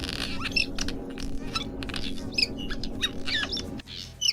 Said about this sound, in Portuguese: Número 10. Andorinhas das rochas.